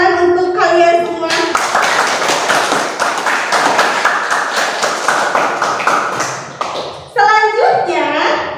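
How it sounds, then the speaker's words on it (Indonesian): Schoolchildren in a classroom break into brisk, dense applause after a chemistry lesson on preservatives, clapping steadily for several seconds between a teacher's voice before and after. "beri tepuk tangan untuk kalian semua."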